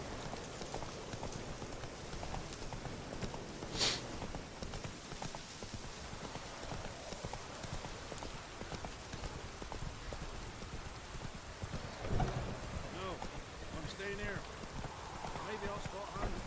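Hooves of the horse Roach clip-clop steadily in The Witcher 3: Wild Hunt, faint and rhythmic amid rain-like ambience, with a voice talking over the game sounds.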